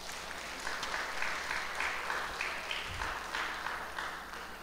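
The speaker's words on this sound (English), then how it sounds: "Give them a wonderful round of applause." Church audience applauding the singers of a Christmas cantata, a faint, distant, steady patter of clapping across the room under a low background hum.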